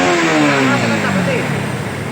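A Honda NS150 motorcycle engine revs after repair, rising to a strong close-up snarl and then winding down with a falling pitch.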